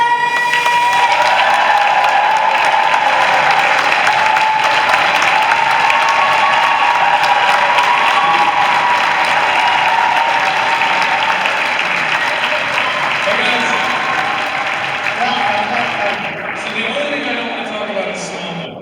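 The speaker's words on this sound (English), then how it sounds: "Guys, I need a big round of applause for our next guest" Comic Con crowd in Dortmund cheers and claps loudly and continuously for a panel guest, a dense roar of applause with whoops and a brief voice, fading slightly near the end.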